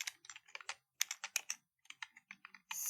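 Keys clatter on a computer keyboard while a property name is entered in game-making software, bursts of quick clicks with brief pauses, close and quiet with no voice.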